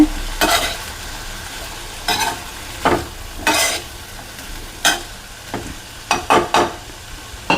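Beans frying in a pan while being stirred, with masala and salt about to be added: repeated scraping stir strokes in irregular bursts over a low background sizzle, close and clear, no speech.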